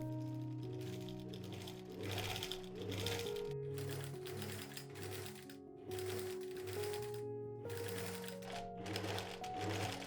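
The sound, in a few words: sewing machine stitching boning channels into stays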